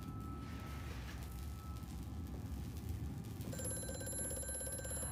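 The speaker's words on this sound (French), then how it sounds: "Bon, le téléphone." A telephone rings in the horror game Amnesia: A Machine for Pigs, a bright tonal bell starting partway through over a steady low droning ambience, fairly clear with no talk.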